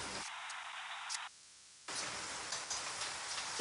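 A steady, loud hiss of a tempering sizzling in hot oil for a cucumber, tomato and small-onion curry, with a short dip in the middle before the sizzle surges back.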